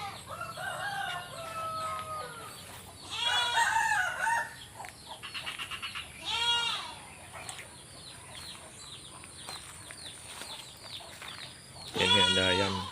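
A white rooster crows a few times on an afternoon walk through a rural garden plantation in Aceh, with goats nearby; the calls ring out moderately close amid outdoor ambience and occasional talking.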